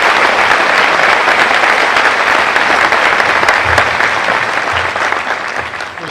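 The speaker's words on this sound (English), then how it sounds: "Please join me in a round of applause to welcome our Kubasaki High School 2018 graduation guest speaker" Graduation audience at the 2018 Kubasaki High School ceremony applauding the guest speaker, loud dense clapping throughout that gradually thins and fades toward the end.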